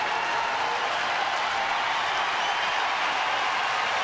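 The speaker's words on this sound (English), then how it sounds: "This big crowd, a very enthusiastic crowd right now with 2 strikes on the batter" Big, enthusiastic baseball crowd at a Dodgers–Rangers game in Texas, roaring and applauding with two strikes on the batter, a steady broad wash of cheering and clapping that holds at full strength for the whole stretch.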